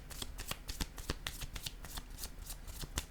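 Tarot cards shuffled in quick, steady riffling bursts, close and fairly quiet, with no talking over them.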